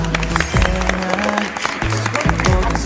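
A studio audience on a Korean variety show breaks into loud, rapid clapping, with music and a voice briefly mixed underneath.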